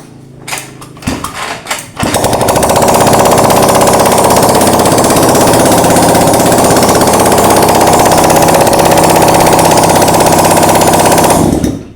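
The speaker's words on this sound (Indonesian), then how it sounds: "Oke, motor sudah menyala." A Honda Vario 125 scooter engine with a new spark plug, stalled after washing, catches with a few sputtering attempts, then runs loud and steady with a rattling idle close by before cutting off.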